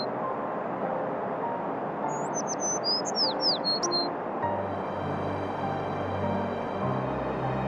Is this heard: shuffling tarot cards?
no